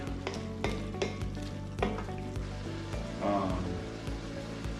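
Onions and green peppers sizzle in a pot of chili while being stirred, a steady close frying hiss broken by repeated scraping and clattering strokes, with a faint hum of background music underneath.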